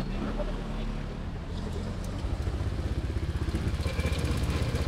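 A 175cc Honda Click motorcycle engine runs steadily, its low rumble turning into a faster, pulsing rhythm in the second half, with some clatter mixed in.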